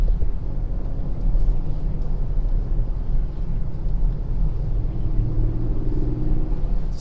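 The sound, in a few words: 2020 Ford Super Duty truck engine running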